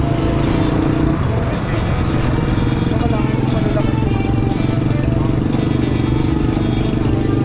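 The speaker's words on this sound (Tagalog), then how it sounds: "Ito yung tricycle nila rito eh, no?" A motorized four-wheeled tricycle drones past on a provincial road, its engine hum steady and close under a constant wash of road noise and people talking nearby.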